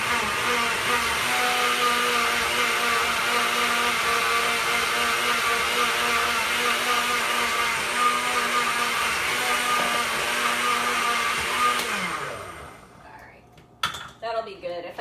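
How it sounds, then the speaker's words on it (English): A blender runs steadily, whirring as it mixes a thick avocado drink with added water, loud and continuous for about twelve seconds before winding down and stopping, followed by a few small clinks. "and continue to blend it."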